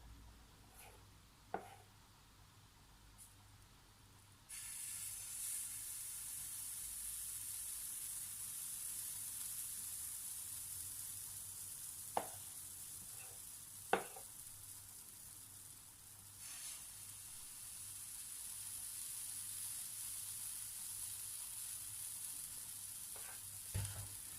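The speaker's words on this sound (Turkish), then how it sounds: "Küçük bir kepçe kullanarak ısınan tavama birer kepçe pankek hamurumdan döküyorum." Cocoa pancake batter ladled into a hot pan, a faint, steady sizzle that rises after a few seconds, with a few soft clicks of utensils and no talk.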